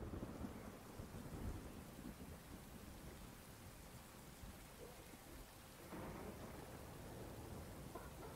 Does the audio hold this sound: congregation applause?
no